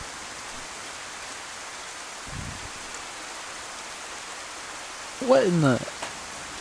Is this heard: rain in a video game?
yes